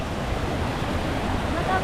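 Water pours down a forest waterfall near a living root bridge in India, a constant broadband roar filling the air with an even, unbroken rush and no distinct pauses.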